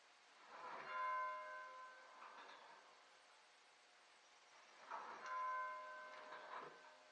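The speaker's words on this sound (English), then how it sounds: "see if you can hear the bell from inside the building" A peace bell at the Universalist Church of West Hartford, struck by a mallet and heard from inside the building, gives two soft, ringing strikes several seconds apart, each leaving a lingering metallic hum that fades into quiet.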